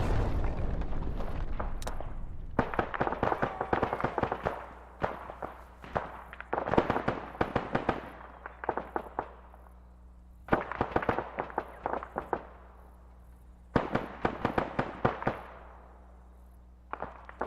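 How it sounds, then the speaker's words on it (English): Bursts of heavy machine-gun fire from an M2 in a combat video game set in Chernarus, several long rapid volleys separated by short pauses, loud and echoing with reverberant tails. "I thought it was an M2."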